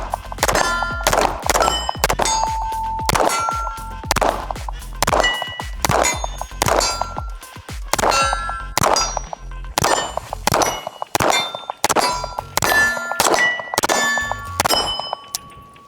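A Mod 2 2011 pistol firing a warm-up magazine outdoors in wind, each shot followed by a ringing clang of bullets striking steel targets, roughly a dozen evenly paced hits.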